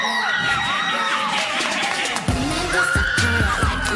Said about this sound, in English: It sounds like a canned sound effect scream.